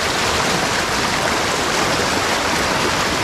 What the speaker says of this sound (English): That's a 30-inch culvert. You can tell it's a lot of water coming out of there.